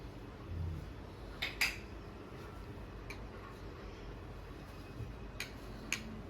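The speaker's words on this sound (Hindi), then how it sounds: "अच्छे से हमें इसको मिक्स कर लेना है हल्के हाथों से।" A spoon clinks and taps against a bowl while dahi chana chaat is gently mixed, with soft scattered knocks over a quiet background.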